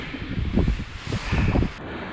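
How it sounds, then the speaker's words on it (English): Strong gusting wind on an exposed hill trail buffets the microphone in heavy low rumbling bursts, two main gusts rising and falling over a constant airy rush. "It's real windy today. It's like gusting 80 or more, and it's really exposed up this section."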